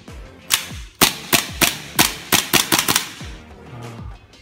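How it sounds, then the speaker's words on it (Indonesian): An MST TTI Combat Master 2011 gel blaster dry-firing with no gel balls loaded, giving about a dozen sharp, close snapping shots in a quick uneven string. "Kita tembak balik."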